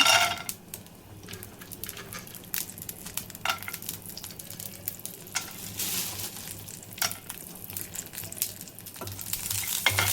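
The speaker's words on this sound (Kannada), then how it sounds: "ಈಗ ಪ್ಯಾನ್ಗೆ ನಾನು ತುಪ್ಪ ಹಾಕಿದ್ದೇನೆ. ಅದಕ್ಕೆ ಗೇರು ಬೀಜ ಹಾಕ್ತಾ ಇದ್ದೇನೆ." Cashews frying in ghee in a pan for mango sheera: a soft, continuous sizzle broken by repeated clicks and taps of a spoon against the pan, fairly close and moderately quiet.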